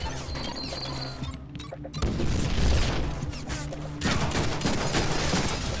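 A grenade blast bursts amid bursts of gunfire in a Deadpool action game, a sudden loud crash followed by rattling volleys and booming impacts, close and intense.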